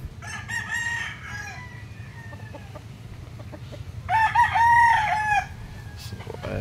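Fighting roosters crow on a rural provincial morning. One crow comes early and a louder, closer one follows a few seconds later, with soft clucking and farmyard background between them.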